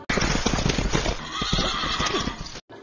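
A cart-pulling horse neighs loudly and close, a long whinny over busy clip-clopping hooves and commotion, ending abruptly.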